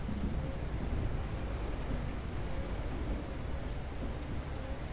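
Steady rain falls in Euro Truck Simulator 2, a dense, continuous wash of drops with a low rumble underneath, holding at an even, fairly loud level throughout with no voices.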